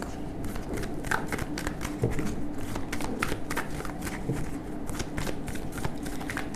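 Tarot cards being shuffled by hand, a continuous papery riffling and flicking that runs steadily throughout, close and moderately loud.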